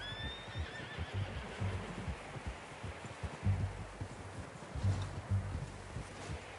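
A horse in the video game Red Dead Redemption 2 whinnies loudly at the start, followed by soft hoof thuds and rustling, no talking.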